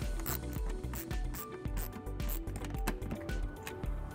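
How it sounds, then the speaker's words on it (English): A 10 mm socket ratchet tightens a locking nut during a wiring harness install on a 2017 Lincoln MKC, producing quiet, fast, steady rhythmic clicking close by. "we'll go ahead and tighten it up using a 10 millimeter socket"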